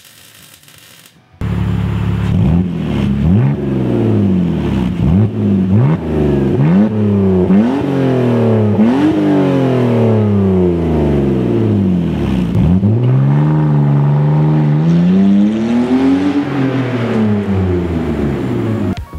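A straight-piped BMW E46 sport wagon starts and revs repeatedly, its exhaust rising and falling in a string of sharp blips, then a longer, smoother rev toward the end, loud and close.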